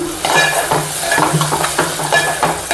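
Gongura chutney mixed by hand in a bowl, giving close, steady wet squelching and stirring sounds with soft clicks against the bowl, no talking.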